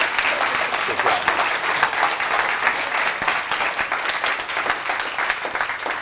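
An audience applauds a guest at a talk on political campaign advance work, with dense, sustained clapping from a roomful of people at steady volume for several seconds.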